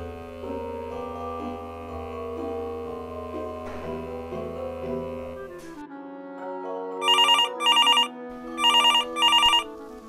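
A telephone in a Bulgarian Christmas comedy sketch rings loudly in two pairs of electronic trilling bursts, coming right after background music fades out.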